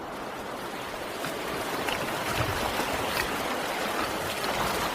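Water rushes steadily along a stream running down a valley into a natural pool on the Sardinian coast, a broad continuous wash with no voices.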